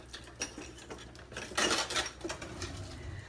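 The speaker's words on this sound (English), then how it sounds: "and start whisking" A whisk clinks against a bowl while stirring a corn syrup mixture for caramel pecan sticky buns, with soft, irregular metallic taps and scrapes, quiet and close.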